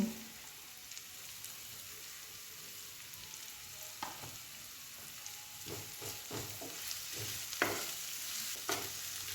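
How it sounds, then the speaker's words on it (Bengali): Garlic and ginger paste fries with salt and turmeric in a pan with onion, giving a quiet, steady sizzle and a few soft spoon taps from stirring. "অল্প একটু নুন হলুদ দিয়ে সেটাকে ভেজে নেব।"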